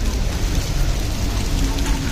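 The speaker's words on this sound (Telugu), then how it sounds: "బాగుంది, చాలా బాగా వర్షం పడుతుంది." Heavy monsoon rain pours steadily in Goa near a harbour with large cruise boats, a dense, continuous roar with deep rumbling underneath, loud and close throughout.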